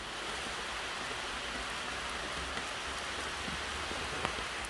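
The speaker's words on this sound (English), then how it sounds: "that rain showed up as expected" Steady rain falls around an outdoor recreational pond in a continuous, even hiss, with no voices and only a couple of brief sharper drip accents.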